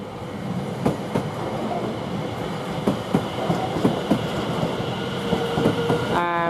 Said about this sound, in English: 1405 Great Wrangler from Southend Victoria towards London Liverpool Street is now departing